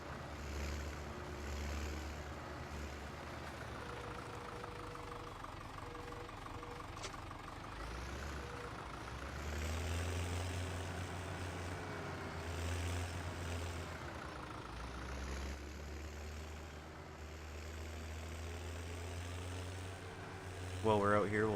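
Tractor engine in Farming Simulator 2017, a droning hum that rises and falls in pitch as the machine works, steady throughout with a brief louder burst at the very end.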